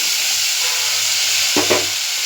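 A spice mixture with salt is stirred and sautéed in a pan, giving a continuous soft sizzle and hiss. A brief scrape of the spoon cuts through near the end, and no one speaks.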